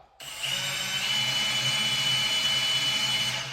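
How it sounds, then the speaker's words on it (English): A Milwaukee drill bores into quarter-inch steel stock, starting abruptly after a brief silence and holding a loud, steady whine with a low motor drone underneath for several seconds. "We're gonna drill into this. This is actually, so it's 1/4 inch steel stock."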